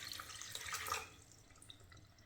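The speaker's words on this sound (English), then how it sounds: "then we're gonna add some water" Water poured into a saucepan holding sugar, a short splashing rush that fades after about a second into quiet trickles, close and fairly soft.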